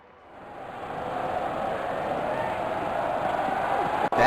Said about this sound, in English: Crowd is going crazy.